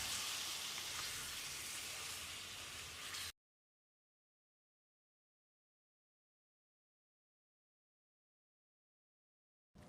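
Marinated chicken sizzles loudly in a pan with sautéed tomatoes, giving a dense, steady crackle for about three seconds before it cuts abruptly to silence.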